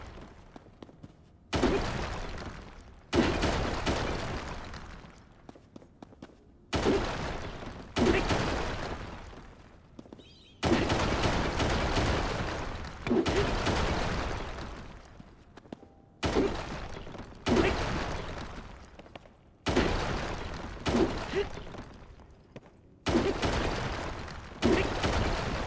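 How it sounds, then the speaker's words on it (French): Heavy repeated thuds and crashing impacts of rocks being smashed with a rock-fused weapon in Zelda: Tears of the Kingdom, roughly a dozen loud separate blows with short pauses between them. "Et là, on va pouvoir détruire tous les cailloux qui se dressent sur notre passage."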